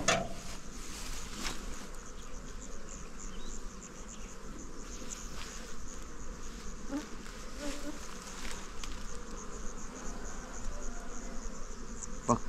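Honeybees drone around an opened hive during the inspection and combining of colonies, a steady, close insect hum with occasional brighter passes of individual bees and faint clicks of hive frames, with no talking.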